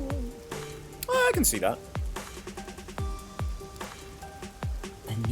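Rain falls steadily in the video game Master Detective Archives: Rain Code, a soft, continuous patter under speech and sharp game sound effects.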